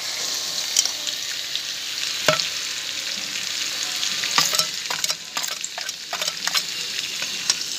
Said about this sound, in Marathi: आता ते पण आपल्याला चांगले हलवून घ्यायचे.